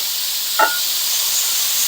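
Meat browning in a saute pan for tater tot casserole, a steady loud sizzle and hiss with one brief stirring scrape partway through.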